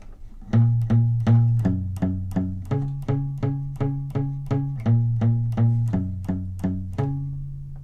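Short, chunky palm-muted guitar bass notes chugging low in a steady even rhythm, about sixteen muted plucks with occasional pitch changes, loud and close.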